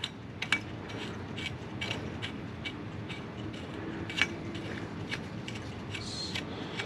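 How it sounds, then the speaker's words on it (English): Brake light switch bolt being unscrewed on a Can-Am Ryker, a run of small ratcheting clicks and faint metallic creaks, close and quiet with irregular sharp ticks, no talk. "So let me unscrew this real quick."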